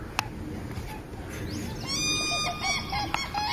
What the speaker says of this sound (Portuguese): Eles esticam e batem as asas, e depois saltam no ar como bailarinas emitindo gritos altos e grasnados.